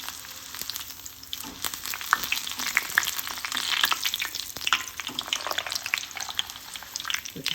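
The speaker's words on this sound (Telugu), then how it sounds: "జస్ట్ అట్లా కొంచెం దంచుకొని ఫ్రై చేసుకోండి" Crushed garlic frying in a hot pan, with a steady crackling sizzle of dense fine pops and occasional louder spits, close and continuous throughout with no talk.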